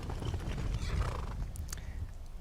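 Shadowmere, a horse in Skyrim, neighs with a breathy whinny over thudding hoof clops, close and moderately loud, with no talk.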